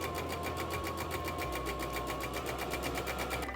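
A sewing machine in a cabin runs steadily with no fabric, its needle mechanism whirring and clattering in a fast, even rhythm close to the microphone.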